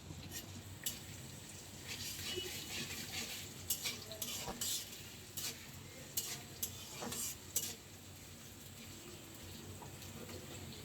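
Bay leaves and chopped onion fry in a hot wok with dried chillies for a Bangladeshi night-time dish, giving a steady soft sizzle with scattered clinks of a utensil against the pan, alone and without talk.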